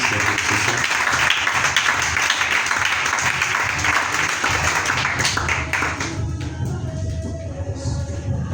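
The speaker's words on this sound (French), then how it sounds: "Acclamons le Seigneur Jésus-Christ." A church congregation applauding after the call to acclaim Jesus Christ, with dense, steady clapping filling the room that thins out toward the end as a voice comes in faintly.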